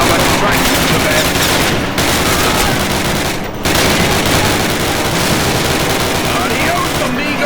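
Sustained rapid gunfire from a World War II firefight at a German roadblock in Call of Duty, a loud, dense stream of overlapping shots and bursts with brief gaps, voices shouting in the background of the battle.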